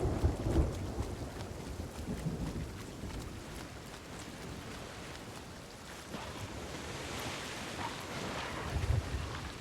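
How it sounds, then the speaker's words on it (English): A lightning storm in the pirate video game Sea of Thieves, with rain hissing steadily and low thunder rumbling and booming at the start and again near the end, moderately quiet, with no talk. "it just annoys me when I get struck by lightning out of nowhere"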